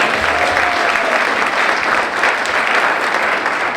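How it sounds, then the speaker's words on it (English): Dense, sustained audience applause fills a hall at a 2019 State of the City address, loud and steady for the whole stretch with no break or spoken voice over it. "please feel free to applaud as you see fit"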